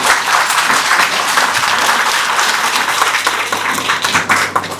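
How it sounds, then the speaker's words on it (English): A standing hospital audience gives loud, continuous applause for doctors and health workers at a jubilee gathering for the sick and healthcare workers, the clapping thick and even throughout. "Let us all stand up and give a rousing applause to our doctors and health workers."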